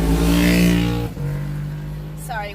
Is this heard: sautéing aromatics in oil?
no